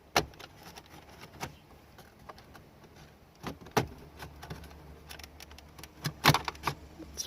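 Plastic dashboard trim around the radio of a 2011 Scion tC pried loose, heard as scattered sharp snaps and clicks, close but fairly quiet, with soft handling noise between them.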